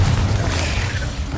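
Confringo explosive spell blast from Hogwarts Legacy, a dense low rumbling boom that holds steady and loud for its brief length with no pause or talk.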